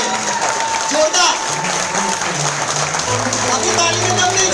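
An audience at a leadership training event in Khokhra, Ahmedabad claps steadily throughout, a dense wash of hands under a voice and sustained tonal music.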